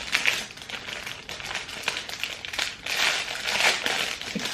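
Close, crisp crinkling and crumpling of plastic wrapping as makeup brushes are unwrapped, in uneven bursts of rustling with brief taps, no talk.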